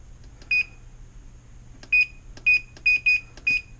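A kitchen timer set for cooking ribs gives six short, sharp electronic beeps, one alone then five in quick irregular succession, clear and close against a quiet background.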